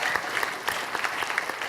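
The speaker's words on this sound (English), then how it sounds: "so that deserves a round of applause" An audience at the GO Foundation 2018 launch bursts into steady, dense applause, many hands clapping together in a continuous wash with no voices rising above it.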